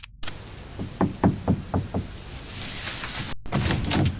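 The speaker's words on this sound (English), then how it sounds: "he knocked on the door to use the bathroom" Knuckles rap a door six times in a quick, evenly spaced series, close and distinct against a quiet room, followed by a brief shuffle and faint rustling.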